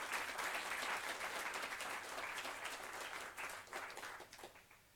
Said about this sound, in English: can we have one more round of robust applause for the inimitable Admiral Dhowan?